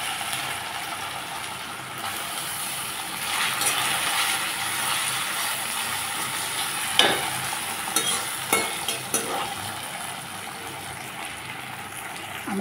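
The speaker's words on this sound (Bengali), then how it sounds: "আমি প্রথমে আলুগুলো ভেজে নিচ্ছি।" Potatoes frying in a pan, a steady broadband sizzle running throughout with a few sharper clicks and scrapes of stirring near the middle, moderately loud and close with no talking.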